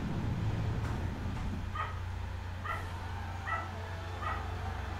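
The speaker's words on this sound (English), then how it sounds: "now we're gonna have dogs on the recording" Several short dog barks or yips at a distance, spaced irregularly over a steady low background hum, with no talk.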